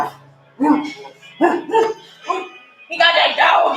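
A man at an open mic imitates a dog with his voice, giving a series of loud, close barks and yips in separated bursts, ending in a longer rough barking run.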